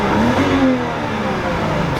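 A BMW car engine revs loudly at close range in a drive-thru, rising in pitch and then settling into a steady growl.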